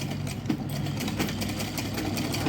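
A sewing machine runs steadily while stitching baby suit (jhabla) fabric, a close, continuous mechanical whir with a fast rhythmic clatter and no talk.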